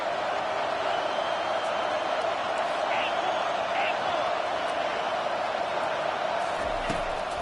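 Stadium crowd at a UGA vs Mizzou college football game, a steady loud roar of cheering fans on a big third down, sustained and dense throughout with a commentator talking over it.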